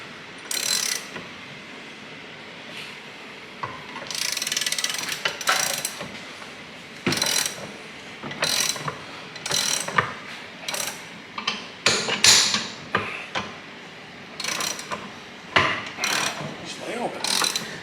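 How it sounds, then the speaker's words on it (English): Rapid bursts of ratchet clicking repeat in short spurts as a ratchet wrench turns on a workpiece clamped in a vise during a car front-end rebuild, close and crisp with brief pauses between strokes. "Get the old ratchet on it."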